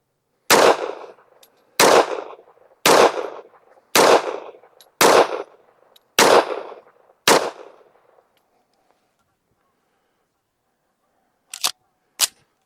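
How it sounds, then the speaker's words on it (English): A Smith & Wesson M&P pistol fitted with an Apex trigger fires Tula ammunition. Seven loud, close shots come about a second apart with echoing tails, then silence, then two shorter, sharp reports. "we got 10 rounds of the Tula loaded up. And like I said at the beginning of the video, these are the very first shots."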